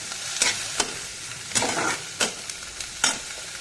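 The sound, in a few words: light frying in butter in a kadai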